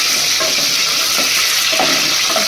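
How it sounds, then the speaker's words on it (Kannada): Curry leaves and onions frying in a pan for a potato and fenugreek rice dish, a loud, dense, continuous sizzle with faint stirring scrapes and no talking. "ನಂತರ ಕರಿಬೇವು ಹಾಕ್ಕೊತಾ ಇದ್ದೀನಿ ನಂತರ ಈರುಳ್ಳಿ ಹಾಕ್ಕೊತಾ ಇದ್ದೀನಿ"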